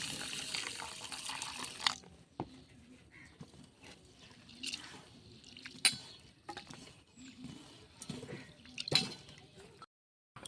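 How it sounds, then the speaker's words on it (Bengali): Mung dal being rinsed clean in water makes soft sloshing and splashing with occasional sharper clinks and pours. It is fairly quiet and close, and ends in a brief silence. "মুগ ডালটাকে পরিষ্কার করে ধুয়ে নেব।"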